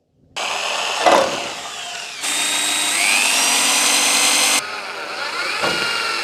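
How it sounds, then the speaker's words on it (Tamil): Power drill driving self-tapping screws into PVC sheet, a loud, close steady whine that starts, shifts pitch upward into a stronger run, then drops back to a slightly lower sustained drone, with no talking. "அதெல்லாம் அப்படியே ஒரு செல்ஃப் ஸ்க்ரூ வச்சு நல்லா டைட்டா அப்படியே ஃபிக்ஸ் பண்ணிடுறேன்."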